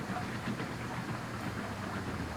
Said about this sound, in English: look, you see the train's powering along